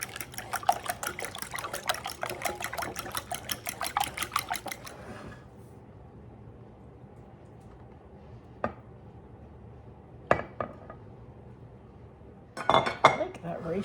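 A fork whisks eggs in a bowl for biscuit egg casserole, a fast steady clinking rhythm for about five seconds, followed by quiet with a few isolated clinks and taps.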